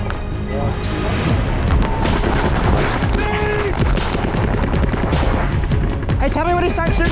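Paintball guns fire in rapid overlapping bursts during a tournament point, loud and close, with shouting voices over the constant popping.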